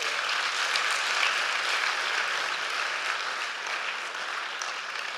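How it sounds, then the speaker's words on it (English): Audience applause welcoming a presenter at a Ghanaian business and MSME policy event, a steady, dense wash of many hands clapping that holds evenly throughout with no talking over it. "Let's welcome him with a round of applause"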